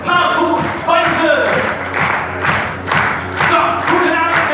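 Audience applause and cheering at the Comedy Club Delmenhorst as the host returns for the second half, a loud crowd surging in repeated waves with shouts mixed in and music playing underneath.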